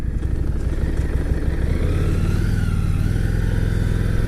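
A used Harley-Davidson Street XG500 motorcycle runs steadily under way, its engine a loud, close, continuous throb with harmonic drone and a slight pitch shift midway as it changes speed.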